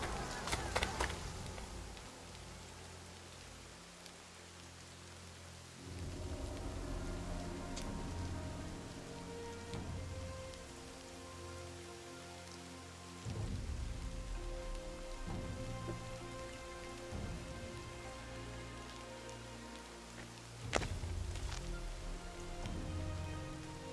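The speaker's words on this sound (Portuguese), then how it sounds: "tá caindo um pau d'água aqui onde eu moro" Heavy rain pours outside a home, a steady wash of drumming drops, with faint thunder rumbling in places beneath layered background sounds.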